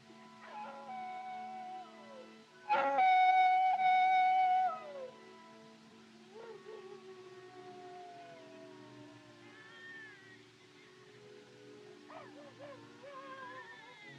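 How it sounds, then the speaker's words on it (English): Coyotes howling at night in a classic western film, long wavering cries rising and falling, one loud wail standing out over softer distant howls amid quiet soundtrack background. "Them coyotes give me the creeps. It sounds, well, it sounds just like a baby."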